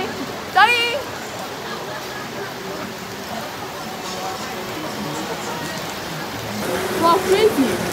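Heavy rain pours in Indonesia as a steady, loud hiss, with brief voices and a short chirp near the start and more voices near the end.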